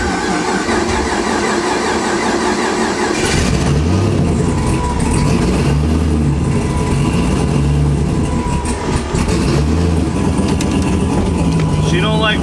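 An LS-swapped Foxbody car idles loud and close with a steady low rumble that thickens into a deeper throb partway through, with people talking over it.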